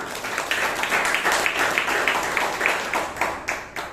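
A small meeting audience at a Toastmasters club claps together in a rhythmic, fairly close round of applause with distinct repeated beats, continuing steadily for several seconds.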